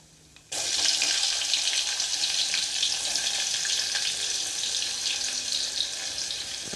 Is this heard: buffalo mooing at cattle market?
no